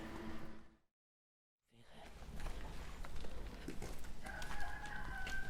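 Out in the countryside, chickens cluck and a rooster crows in a garden yard, a faint farmyard bustle broken by a brief silence, with a longer, tonal crow rising near the end.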